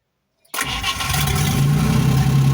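A rebuilt engine in a GAZ-SAZ truck cranks and fires up after a half-second of silence, then settles into a steady, loud running drone with a low hum, close by and with no talk.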